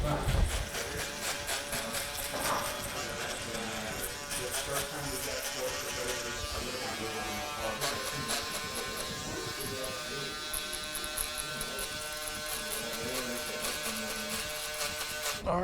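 Electric hair clippers buzzing a son's head, a faint steady electric hum that runs throughout at low level, with some quiet background noise.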